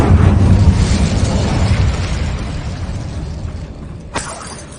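An Incendio fire spell blast in Hogwarts Legacy: a loud roaring, crackling burst that slowly fades over several seconds, followed by a single sharp impact near the end.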